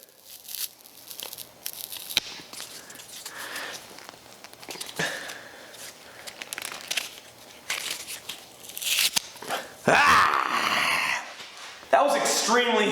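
Leather pieces joined only with glue being pulled apart by hand, giving repeated crinkly tearing and crunching bursts that grow louder and harsher toward the end, with someone talking over them.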